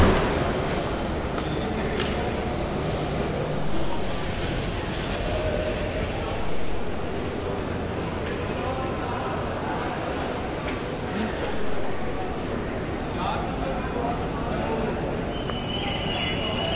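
Busy railway station platform in Lahore, with a steady rumble of trains and rail cars under a dense crowd murmur, voices talking throughout at close range.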